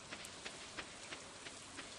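Steady rain falls in the farming game Stardew Valley, a soft, even hiss with faint periodic patters on a surface, quiet and unbroken by talk.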